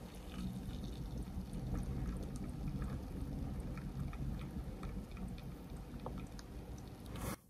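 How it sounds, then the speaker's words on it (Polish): Steady close fizzing and crackling of carbonated blackcurrant Fanta bubbles, a dense continuous hiss with tiny scattered pops, ending in a brief louder rustle. "Ciekawe, czy słychać te bąbelki."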